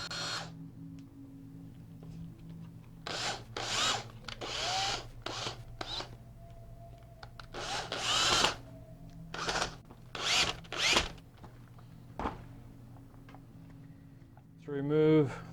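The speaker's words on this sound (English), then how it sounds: "I'm going to reattach the hip back to the spine with a drywall screw" A power drill drives a drywall screw into a plastic skeleton to rejoin the hip to the spine, giving close, repeated short whirring bursts with pauses between them.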